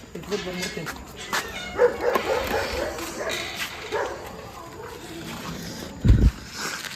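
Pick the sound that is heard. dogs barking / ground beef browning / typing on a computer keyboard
dogs barking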